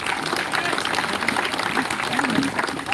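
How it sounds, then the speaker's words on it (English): Audience applause greeting a guest at a live Krishna Janmashtami celebration, a steady dense wash of clapping from a crowd, fairly loud throughout with faint voices mixed in. "Can we have a big round of applause for this person?"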